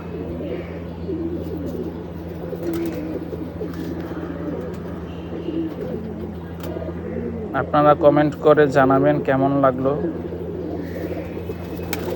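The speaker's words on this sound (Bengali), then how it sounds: "আর এই যে কিছু কবুতর দেখতে পাচ্ছেন এখানেই আছে।" Pigeons kept in a backyard loft coo in soft, repeated rolling calls, with a louder, closer burst of cooing partway through while someone talks over a low steady hum.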